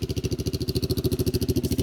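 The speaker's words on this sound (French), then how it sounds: "On va laisser le 4 roues marcher." A Kawasaki Brute 300 ATV engine runs close by at a steady, fast chugging idle, rhythmic pulses with no voices over it.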